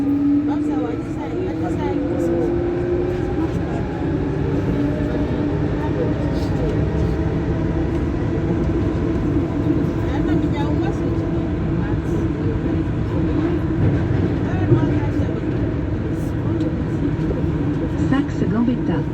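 A Lyon Metro Line B subway train runs steadily, a loud continuous low rumble and rolling drone from inside the car, lasting the whole stretch without talk.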